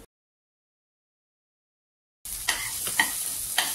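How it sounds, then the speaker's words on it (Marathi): After a couple of seconds of silence, washed whole masoor lentils and masala start sizzling in a hot pan, a close, steady frying hiss with a few stirring clicks. "हा परतून घेऊया। पुन्हा 2 मिनिटं मी झाकण ठेवून परतणार आहे।"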